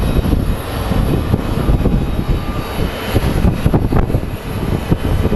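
A United airliner arriving from Denver roars past at Phoenix Sky Harbor International Airport, its jet engines producing a loud, steady broadband rumble with wind buffeting throughout.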